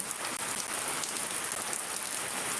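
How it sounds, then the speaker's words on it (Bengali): A short stretch of heavy rainfall in Shariatpur, Bangladesh: an even, dense patter of drops hitting surfaces nearby, unbroken and without talk. "ফরিদপুর শরীয়তপুর অনেক বৃষ্টি হচ্ছে"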